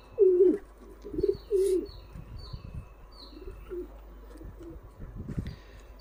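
Adult pigeons kept in a cage with chicks give several low, throaty coos in short bursts near the start, then quieter rustling, shuffling and faint wing movement follow.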